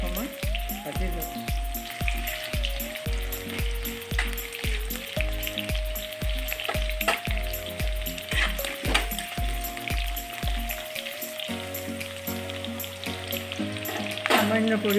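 Potatoes frying in hot oil in a pan, a steady, close crackle and sizzle lasting throughout, with rhythmic background music that drops away near the end while the frying carries on.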